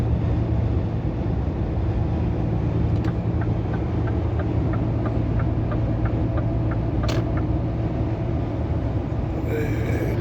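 A Scania R500 truck with a silo-bulk tanker trailer drives along, its engine and road noise forming a loud, steady drone heard from inside the cab, with a faint regular ticking and no talk.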